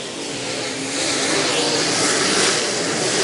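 Race cars roaring around a speedway during close racing, a loud continuous engine drone that swells slightly as the pack passes, with no clear voices.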